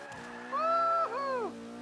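Tires squeal in a drawn-out skid as a four-wheel-drive car is thrown sideways on the handbrake in the Forza Motorsport 5 racing game, two rising and falling screeches over a steady engine drone.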